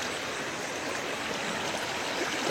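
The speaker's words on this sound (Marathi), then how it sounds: "पाणी किती वाहतोय" Fast-flowing stream water rushing steadily at night, a loud, continuous broadband roar close by with no talk over it.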